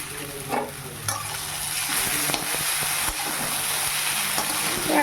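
Chow mein stir-fried in a pan with oil, ginger, chilli and potato, a steady close sizzle with scraping stirs recurring throughout.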